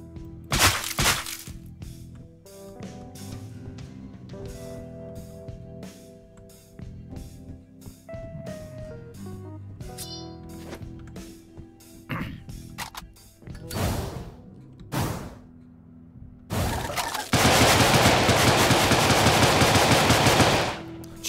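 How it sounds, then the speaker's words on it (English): Old world rifle fire in the game Deadbolt: a string of sharp, separate gunshots rings out over a quiet musical backdrop, followed by a long, loud, dense burst of shooting near the end. "Old world rifle, eh?"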